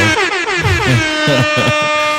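A loud air horn blasts repeatedly in a rapid, wavering sequence of honks, close and piercing, with no talking.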